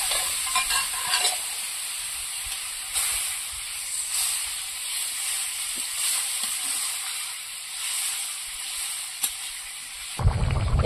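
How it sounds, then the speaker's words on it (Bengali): Meat-boiling water added to a simmering mutton kosha curry over a wood fire: a soft, steady sizzle and bubbling with occasional stirring clicks, ending in a brief louder splash. "এবার মাংস সেদ্ধ করে রাখা জলটা এবার দিয়ে দেবো তরকারিতে"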